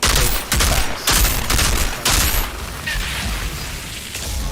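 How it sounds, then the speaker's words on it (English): Mortar shells keep exploding in the video game Outriders: a loud, dense barrage of booming blasts that hits in repeated surges with only brief dips between them and never fully stops. "I keep seeing the mortars coming down."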